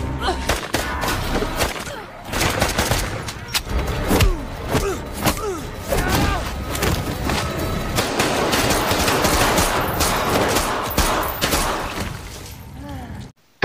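Rapid gunfire fills a close-quarters shootout in a European action film, with dense automatic bursts and sharp single shots crackling continuously alongside thuds and impacts.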